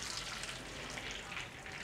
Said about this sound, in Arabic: هنحط شوية من الزيت وهنحط مكعب زبدة وهننزل عليهم ببيضتين